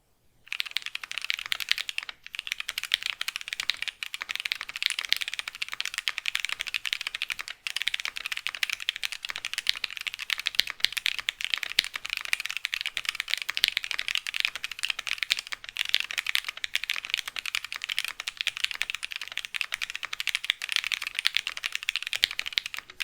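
Lubed Okomochi tactile mechanical switches being typed on steadily, a dense run of close, crisp keystrokes with a soft muted clack and no pauses, alone without talk.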